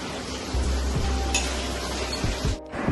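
Red amaranth greens (rangalau bhaji) stir-fried in a wok for a home meal: a continuous close sizzle with scraping stir strokes and occasional light metallic clinks, with no voices.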